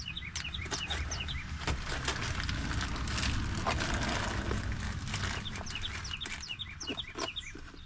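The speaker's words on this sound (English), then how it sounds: "Those birds just seem so happy out there." Birds sing outdoors in short bursts of high chirps and trills, fairly faint over a low, steady background rumble, with no one talking.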